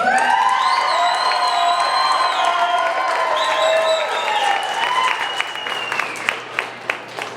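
A political rally crowd in Sweetwater County cheers and whoops loudly over steady applause, the cheering fading after a few seconds to leave thinning, scattered claps.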